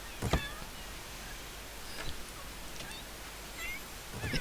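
Cats meow in a video game, a few short calls spaced across the clip with quieter ones between, set over a steady background hum.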